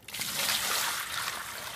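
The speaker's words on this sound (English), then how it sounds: "So we're going to pour some fresh water" Fresh water poured into a small mixing trough on a farm in freezing weather, a brief steady splashing trickle heard close up on its own.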